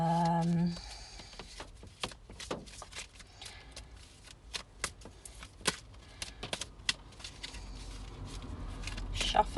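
Tarot cards being shuffled for a Capricorn reading, heard as a run of soft, irregular papery riffles and taps that follow a brief tone at the start, fairly quiet and close, with no talking.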